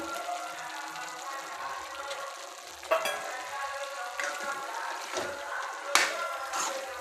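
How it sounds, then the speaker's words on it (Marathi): Paneer fries in butter masala gravy, a soft steady sizzle close by, broken by a few sharp clacks of a spoon against the pan. "एक दोन मिनटं पनीर फ्राय करून घेऊ याच्यात मसाल्यामध्ये"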